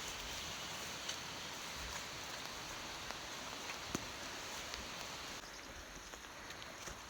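Steady rain falling outdoors during a trip to a farm, a constant broadband hiss with scattered louder drops and no talk.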